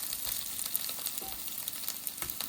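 Food fries on a small camping cooker at a festival, a continuous close crackling sizzle with scattered pops and faint stirring, no voices.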